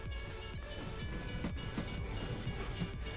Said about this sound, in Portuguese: Aqui tá vendo o trem, ó, galera. O trenzinho passando aí.